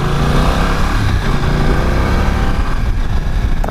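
A 2020 BMW F900XR parallel-twin motorcycle engine rumbles continuously and loudly up close, a steady throbbing drone while riding.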